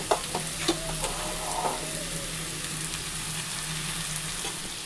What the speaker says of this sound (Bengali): তো এই যে মাংস কষা হচ্ছে